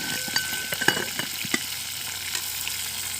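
Fish fries in a pan as it is turned over, a steady close hiss of hot oil punctuated by several clinks and scrapes from the turner, with no one speaking.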